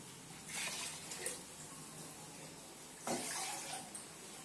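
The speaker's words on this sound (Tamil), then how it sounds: "ஸோ இந்த தண்ணி ஊற்றுறது ரொம்ப ரொம்ப இம்பார்ட்டண்ட்" Water poured from a vessel into a pot of chicken biryani rice comes in two short splashing gushes, the first longer and the second brief, heard close up and fairly soft with no talk.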